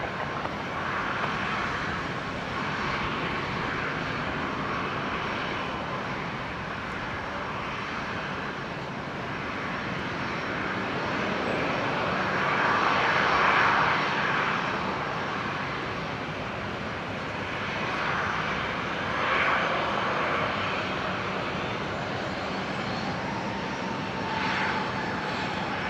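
An aircraft lands on runway 19 right at Brisbane airport, its engine roar heard as a steady distant rumble that swells in the middle and then eases, with no voices over it.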